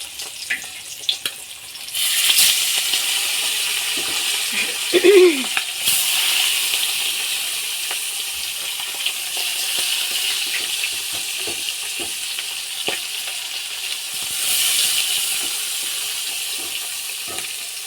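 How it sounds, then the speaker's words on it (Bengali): Fish fries in a pan with a steady, close hissing sizzle that swells and fades in waves, with occasional clatter and a faint voice in the background. "এদিকে মাছ ভাজা করছি"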